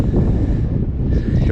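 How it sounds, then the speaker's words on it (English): Strong wind at Fort Stevens on the Oregon coast by the Columbia River, buffeting the microphone, a loud low rumble with gusty fluctuations and no talking. "It's quite windy right now"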